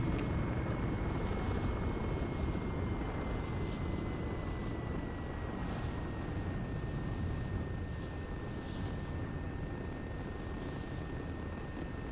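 Helicopter flying in the video game ARMA 3, a steady loud rotor and engine drone with a faint high whine, continuous throughout with no talk.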